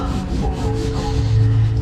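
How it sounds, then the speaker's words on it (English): Steady abrasive rubbing of sandpaper across a boat cockpit surface during a refit, a continuous close scratchy texture with slight pulsing strokes and no talking. "Just finished sanding this whole cockpit."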